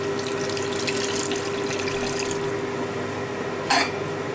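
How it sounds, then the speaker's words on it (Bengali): Water poured into a pan of omelette curry with potatoes, a steady faint splashing trickle that runs throughout, with a brief brighter splash near the end. "এবার আমি দিয়ে দিচ্ছি একটু জল, আর একটু জল লাগবে।"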